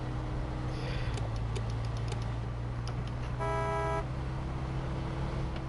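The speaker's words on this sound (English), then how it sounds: "I just blew the horn" Truck horn honking in the off-road driving game Snowrunner, a single sustained blast near the end over a steady engine drone.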